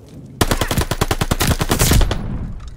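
Rapid automatic gunfire in a video game: a loud, close burst of about a dozen evenly spaced shots that ends in a decaying echo.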